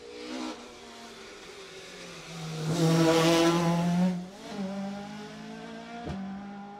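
A rally car on stage 25 of the 2018 Jersey Rally races toward the listener. Its engine rises to a loud, revving howl as it passes close by, then eases off and pulls away.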